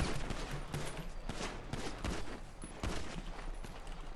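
Sustained gunfire from a GTA V NoPixel roleplay shootout in Grapeseed, with dense overlapping bursts and rapid automatic fire rattling continuously at close range for several seconds.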